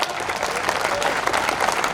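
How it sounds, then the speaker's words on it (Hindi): Sustained applause from an audience at a torch-march political rally in Khandwa, steady dense clapping filling the whole stretch at fairly close range, with faint crowd noise mixed in. "तमाम अपने आप के लिए तालियां बजाइए।"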